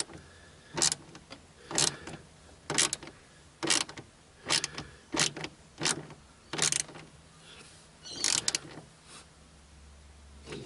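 Torque screws on the rear deck of a Mercedes-Benz C-Class W204 are tightened in a series of about ten short, loud ratcheting bursts evenly spaced at close range, with quiet pauses between them.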